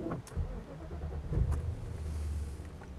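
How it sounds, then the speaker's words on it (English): A Mercedes S420 limousine engine cranks and catches, then settles into a low, steady idle, close by and fairly quiet. "Starts on the button, nice oil pressure, nice temperatures, into D, and off we go."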